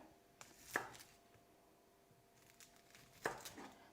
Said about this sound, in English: We will now be chopping the onion